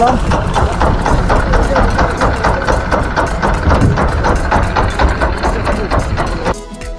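Loud, steady low rumble of a boat engine idling at a river ghat, with a rapid regular chugging pulse, close by, fading slightly at the end.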